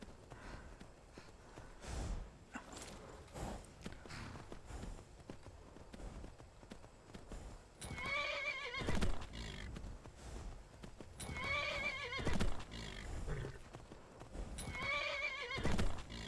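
A horse in the video game Skyrim whinnies loudly three times in separate bursts while its hooves clip-clop steadily throughout, close and clear with almost no talking.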